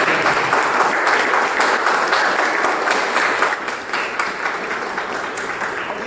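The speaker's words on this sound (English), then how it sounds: "Can we have a huge round of applause for all of us?" A crowd applauds at a speech-club meeting, with dense, steady clapping that holds at full strength for about four seconds, then eases slightly and carries on without pause.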